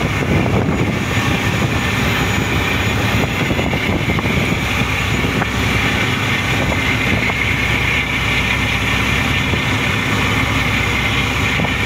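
Loud, continuous roar of a ferry's two running engines between Tabuelan, Cebu and Escalante, with a steady rumble and broadband rushing noise, unbroken throughout.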